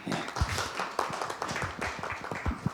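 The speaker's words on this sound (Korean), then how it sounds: "박수 한번 보내주시죠" A small audience at a Korean peace and unification forum claps briefly, a sparse patter of individual hand claps with distinct sharp strikes, close and moderately quiet, with no talking.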